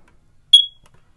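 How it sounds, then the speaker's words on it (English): One short, piercing electronic chirp from a First Alert smoke detector pressed on test, sounding alone in near silence. "I've already got a first alert smoke detector here, and we're going to actually hit the test button, and that should trigger the process."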